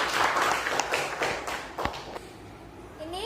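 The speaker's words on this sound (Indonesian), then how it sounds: "Kita beri tepuk tangan dulu." Classroom applause for a student presenter stepping forward at an elementary school, a dense patter of hand claps from the group that thins out toward the end, with scattered taps and some background voices.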